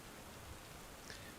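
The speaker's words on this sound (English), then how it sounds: "raining background noise" Steady rain ambience in the video game Stoneshard, a faint, even hiss of falling drops with no other sounds.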